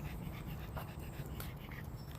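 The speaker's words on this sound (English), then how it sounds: "my dog still wants to hunt" A hunting dog pants steadily and close by, a continuous rapid breathing rhythm over low background noise.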